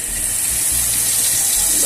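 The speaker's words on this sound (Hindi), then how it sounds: "तो अब इसमें डाल देती हूँ थोड़ा सा ऑयल।" Cooking oil pours into a kadhai, a steady hissing, watery flow lasting the whole moment, fairly loud and close, with no talking over it.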